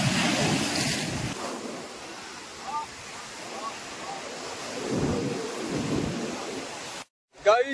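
Sea waves at Digha beach surge and break in repeated loud swells, with heavy wind buffeting the microphone and a brief cut near the end.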